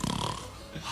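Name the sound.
voice imitating loud snoring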